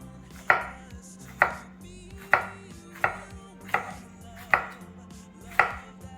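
A knife chops through washed jalapeños and tomatoes on a cutting board in seven evenly spaced, sharp close strokes with a quiet pause between each, and no one speaks.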